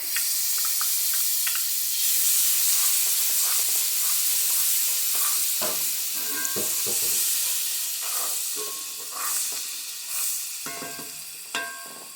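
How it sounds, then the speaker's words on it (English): Garlic sizzles in melted butter in a breakfast skillet, a steady bright hiss that runs the whole time with scattered crackles and clicks of utensil stirring, close and continuous with no talking. "our butter is completely melted. We're going to add our garlic."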